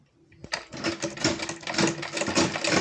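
Sewing machine stitching a leather wallet, a fast close mechanical rattle in quick bursts with short pauses, loud and alone with no voices.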